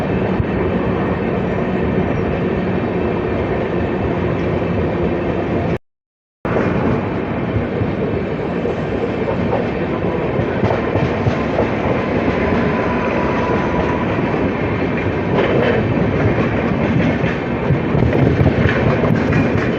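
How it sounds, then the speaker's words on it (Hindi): A Tinsukia–Bengaluru Express passenger train runs at speed while overtaking another train, giving a loud, continuous rumble with rail clatter heard from inside the coach. A brief dropout interrupts the sound. "और ये किसी ट्रेन को ओवरटेक कर रहे हैं हम लोग।"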